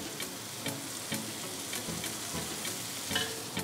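Surinamese sauerkraut fries in oil in a home kitchen pan, a steady close crackling sizzle with periodic stirring scrapes and no talking.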